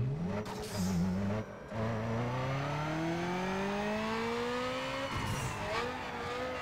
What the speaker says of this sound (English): before we get started, we're gonna quickly do a dyno run